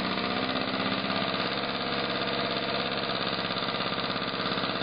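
A Graham Industries GAGE TVR1A small model engine runs in at a steady, fast, buzzing pace. It is loud and close, with an even rhythm throughout and no talk.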